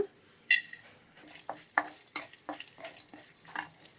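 Dried red chillies frying in a spoonful of oil in a pan, heard as scattered spoon clinks and scrapes with faint crackling between them, fairly close and quiet.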